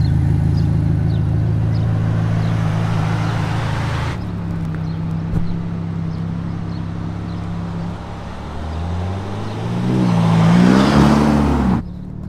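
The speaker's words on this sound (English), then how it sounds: "First drive of the Roma." A Ferrari Roma on its first drive, engine droning steadily from the cabin, then the pitch climbs in rising sweeps as it accelerates near the end, with no talk.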